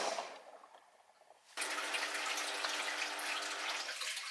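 A Dyson Contrarotator CR01 washing machine drains water on an 85-degree cottons wash: a quiet trickle gives way abruptly to a steady, fairly loud rush of draining water that continues to the end.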